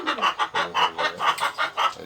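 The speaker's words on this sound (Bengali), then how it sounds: "এই যে এই মুরগিটা ডিম পারবে বলে পকা করে বেড়াচ্ছে" A hen clucking restlessly before laying an egg, about nine rhythmic, evenly spaced clucks in a close, loud run, with no talking over it.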